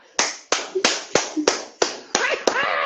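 Hand claps in a quick, regular series of about ten sharp, loud slaps, close by and ringing slightly, with excited voices breaking in toward the end.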